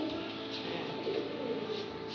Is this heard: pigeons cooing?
yes